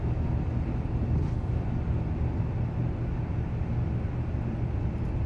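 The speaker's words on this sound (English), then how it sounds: "Man, those engines sound insane." Airbus A350 jet engines roar in Microsoft Flight Simulator 2024 as a deep, steady, loud rumble during climb-out, continuous and unbroken throughout.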